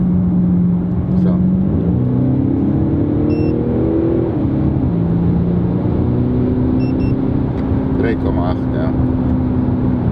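Tuned Audi SQ5 raised from 313 to 370 horsepower accelerates uphill with manual gear changes, engine note climbing and dropping at each shift in a loud, close in-cabin drone, while a person speaks briefly.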